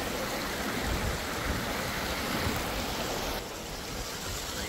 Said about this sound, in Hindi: आप देख सकते हैं वाटरफॉल वगैरह, ऑन द वे ही था ये